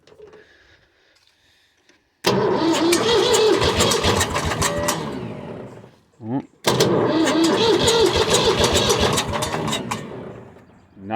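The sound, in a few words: engine being started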